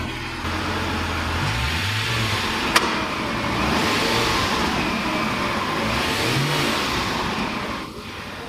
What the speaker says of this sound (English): The engine has warmed up nicely.